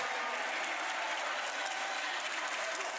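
Indoor crowd at a national pickleball championship applauding a shot, a dense steady wash of clapping filling the hall with no break.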